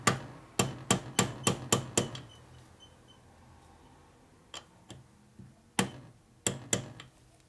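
A hammer taps a punch on a transmission part of a 1961 Harley-Davidson Sportster XLCH during a rebuild: a quick run of six sharp metallic strikes, then a pause and several more scattered taps, close and crisp.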